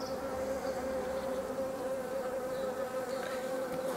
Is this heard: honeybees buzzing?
yes